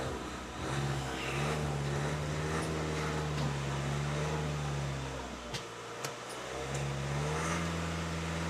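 An Audi A4 engine, a car found stored in a barn, runs steadily with a sustained drone and a brief dip before the revs climb again, loud and close with no talk over it.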